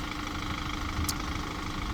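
A Renault Master van's engine idles steadily close by, a constant even rumble with no revving and no voices.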